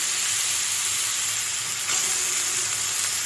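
Marinated chicken hits sizzling masala in a pan for a biryani, giving a loud, steady, close hiss of frying that holds without pause.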